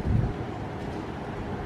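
Wind gusting outdoors and buffeting the microphone, a low steady rumble with a slightly stronger gust at the start and no talking.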